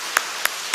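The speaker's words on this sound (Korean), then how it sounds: "두 분 교구장이 박수 한번 쳐줘요." A few separate claps ring out in a church during a congregational service, three sharp isolated hand claps spaced apart over a quiet background, with no talking.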